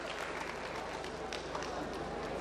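Audience applause at the Shravasti Mahotsav, a steady wash of clapping from a large crowd that holds evenly for the whole stretch, with a low hum and a voice faint underneath.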